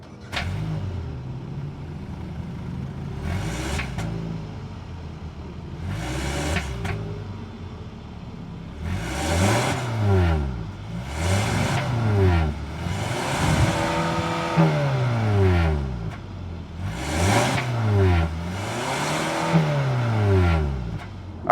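The 2.5-liter naturally aspirated four-cylinder engine of a 2025 Hyundai Sonata SEL Convenience starts, then idles and is revved in repeated short bursts, rising and falling several times, loud and close.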